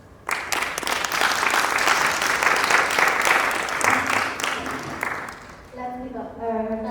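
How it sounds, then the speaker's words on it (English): Audience applause at a youth mental health advocacy presentation rises sharply and continues as a dense, steady clatter for about five seconds, then fades as a voice begins speaking. "Let's give another round of applause."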